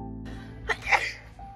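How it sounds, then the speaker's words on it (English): A single sharp sneeze bursts out near the speaker, loud and close, over a quiet indoor background. "Also, I just sneezed."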